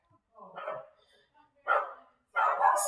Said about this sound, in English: I have a dog barking so loudly.